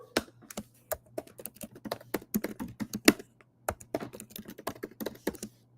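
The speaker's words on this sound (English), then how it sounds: "Typing this out right now on Twitter as we speak." Rapid typing on a computer keyboard to post on Twitter, irregular bursts of crisp key clicks close to the microphone, with a short pause midway before the clatter resumes over a faint steady hum.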